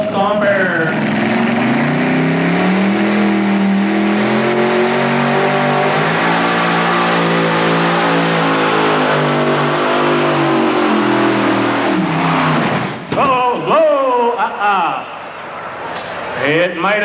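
A Little Stomper pulling vehicle at a 1985 pull event in Meadville, PA, roars with a loud sustained engine drone that climbs in pitch, then cuts off abruptly and sputters near the end, with an announcer's voice running over it.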